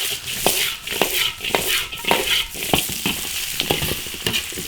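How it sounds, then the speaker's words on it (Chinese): Cured pork ribs fry and sizzle in a hot oiled wok with ginger, scallion and chili, a steady close crackle broken by repeated scraping stirs of the spatula, with no talking. "排骨稍微煎一下，"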